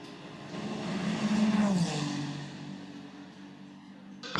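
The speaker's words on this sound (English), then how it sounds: "Let's have a listen in to Ryo Hirakawa's number 8 Toyota." Number 8 Toyota race car on track, a single engine note rising and falling as it passes, fairly faint and heard alone without talk.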